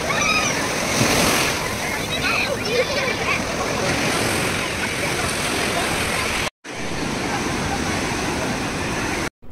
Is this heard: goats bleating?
no